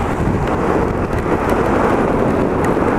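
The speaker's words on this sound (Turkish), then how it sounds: "Şerefsiz yağmur da şiddetlendi o ya" Heavy rain and wind roar on a night motorcycle ride through a storm, a loud, continuous wash of noise with no break or voice.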